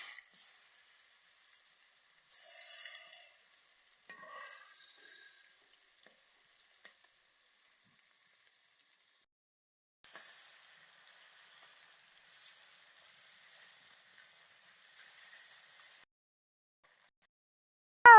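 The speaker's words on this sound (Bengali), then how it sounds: "এখন আমরা লেজগুলো ভেজে নেব।" Fish tails fry in hot oil with a bright, steady sizzle that fades out, pauses in near silence, then returns strongly before stopping abruptly.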